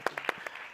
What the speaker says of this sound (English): Round of applause for Councillor Andile.